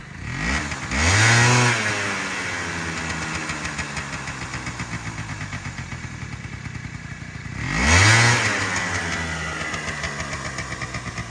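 Honda Tact AF-51 stand-up scooter engine running, a steady puttering idle broken by two brief throttle blips that rise and fall, close and with no talk.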